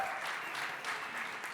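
Audience applause at a pitching event, a steady wash of many hands clapping at moderate volume throughout the brief stretch.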